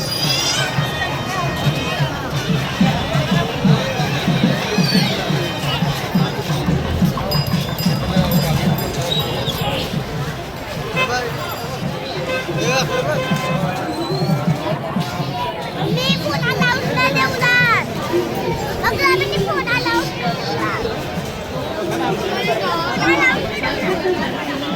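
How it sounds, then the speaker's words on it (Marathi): Dense crowd chatter at Rameshwar temple, many voices talking at once in a continuous loud hubbub, with occasional clattering footsteps. "गर्दी आहे गाईज, भरपूर गर्दी आहे."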